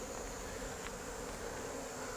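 Honey bees droning around hive frames during an inspection of a small swarm colony, a steady, soft, continuous buzz close by with no voices.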